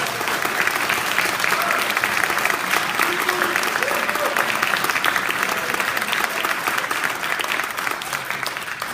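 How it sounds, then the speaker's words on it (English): Applause for the judges at a high school incubator pitch night: a crowd clapping steadily and loudly for the whole stretch, a dense even patter with no break. "let's give a big round of applause for our judges."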